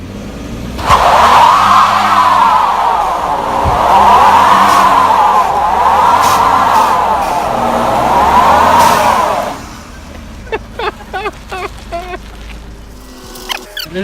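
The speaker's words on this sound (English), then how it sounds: "There's the second truck burnout on Calypso Comeback." A pickup truck engine roars and revs in long surging waves as tires spin in a burnout, then cuts off, leaving scattered sharp clicks and pops.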